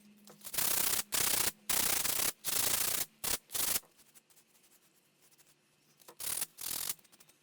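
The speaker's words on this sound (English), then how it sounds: "I'm just going to give this a light sand." A coal miner's pick head gets a light hand sanding, with rough rasping strokes in quick bursts, then a pause and two more strokes, close up with no voices.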